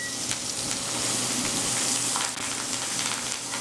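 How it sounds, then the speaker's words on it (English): A steak sizzles steadily in a tilted pan while butter and herbs are spooned over it, a close, continuous crackling frying hiss broken by faint clinks of the spoon, with no talking. "you're gonna kind of make sure that you're constantly hitting the steak with some nice butter. And this is the basting action."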